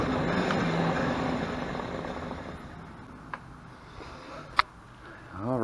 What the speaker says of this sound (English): Okay, so the motor is moving just fine.